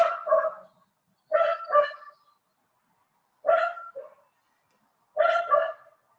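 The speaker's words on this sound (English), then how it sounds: "Sorry about the dog." A dog barks nearby in four separate bursts of two or three sharp, clear barks each, with quiet gaps between them and no talking.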